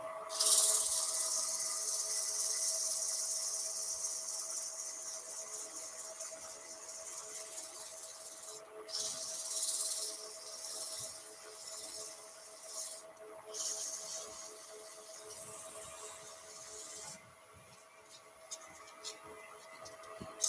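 Sandpaper of 240 grit rubs over a rippled ash bowl, making a close, scratchy hiss in long strokes that break off in a few brief pauses.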